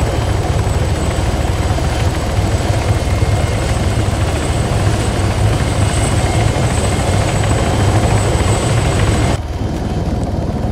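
A helicopter in the military game ArmA 3 gives a loud, steady rotor thrum with engine whine, close by and continuous, then dips briefly near the end.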